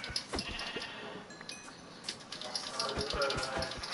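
Several sheep in Minecraft bleat in short, scattered calls at moderate volume as they are attacked, alongside faint clicks and background noise.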